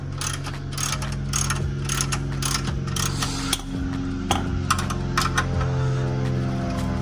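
A jack ratchets under a 1980s Ford Mustang Fox-body being fitted with a transmission cross member, giving a steady run of close, repeated metallic clicks over a low mechanical hum.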